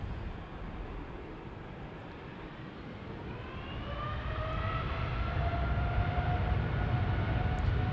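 Jet airliner engines from a KLM flight bound for Chicago spool up at Amsterdam Schiphol Airport, a broad steady roar with a rising whine building in the second half, heard from a distance with no talk.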